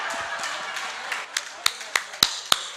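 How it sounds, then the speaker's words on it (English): A few scattered claps from an audience at a manufacturers' quality awards ceremony, starting as a soft murmur and ending in sparse, distinct hand claps. "Round of applause, folks."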